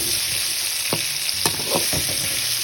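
Mango pieces sauté in a pan under a constant hissing sizzle, with a few soft spoon scrapes and taps at close range and no talk.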